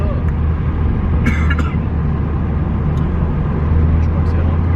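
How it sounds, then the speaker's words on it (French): A family car's engine hums low and steady while driving, a constant droning rumble with a brief cough or throat noise over it. "Mais après, la voiture, elle fait ce bruit là."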